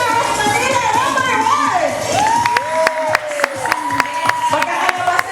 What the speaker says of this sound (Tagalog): Malakasan ko yung palakpak.